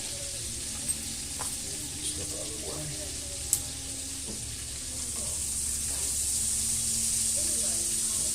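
A butter-basted rib-eye steak sizzles steadily in a cast iron pan, a continuous close hiss with a few small clicks and pops that swells slightly louder toward the end.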